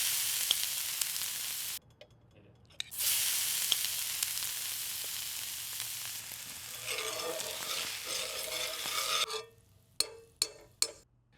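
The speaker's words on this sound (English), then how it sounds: "Sizzle, stir, tap, 3 fast cooking sounds of the first step." Taco filling sizzles loudly in a pan, the frying hiss broken by a brief pause, then stirring scrapes and a few sharp taps on the pan at the end.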